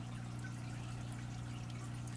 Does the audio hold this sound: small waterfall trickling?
yes